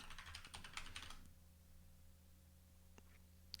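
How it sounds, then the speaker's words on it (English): A short burst of quick computer keyboard typing, close and fairly quiet, stops after about a second, leaving a faint steady hum and a couple of isolated clicks. "Can y'all hear me typing?"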